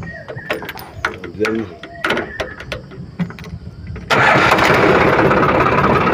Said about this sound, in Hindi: तो अभी हम इसे ट्रैक्टर को स्टार्ट करके एक बार चेक करेंगे।